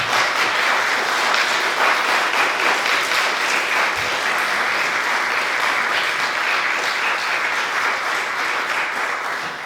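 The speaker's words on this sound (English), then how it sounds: "Can we give them a round of applause?" A church audience applauds a choir and musicians at an equinox celebration, a dense, steady wash of clapping that holds loud and even for the whole stretch, with no voices on top.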